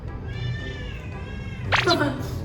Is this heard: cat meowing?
yes